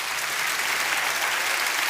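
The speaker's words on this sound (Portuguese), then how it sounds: "você pode dar um forte aplauso a Jesus?" A church congregation applauds in a steady, dense wash of clapping that holds evenly for the whole stretch, loud and close with no break.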